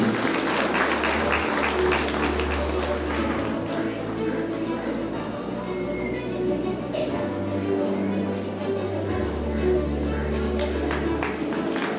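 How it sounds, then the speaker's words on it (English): School annual day audience claps for prize winners: a continuous wash of crowd applause runs under an amplified announcer's voice and a low sustained music bed. "Kindly clap, applaud for the"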